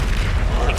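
A Confringo spell explosion in Hogwarts Legacy: a brief, deep boom lasting under a second.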